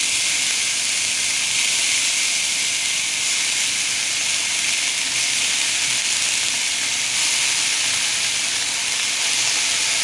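Filet mignon roasting in a hot pan gives a steady, loud, continuous sizzle with a bright hiss that stays even throughout, with no voices.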